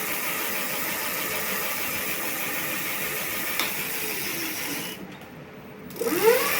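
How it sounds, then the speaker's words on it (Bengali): A high-speed electric bicycle motor runs unloaded with its wheel free, giving a steady whirring hum that dips briefly near the end and then swells again. "দেখো মোটরের স্পিড দেখো"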